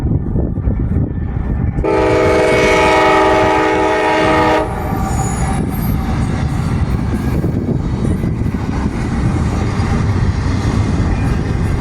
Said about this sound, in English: Leading the charge was a brand new rebuild from CSX, a CM44AH that was pretty shiny.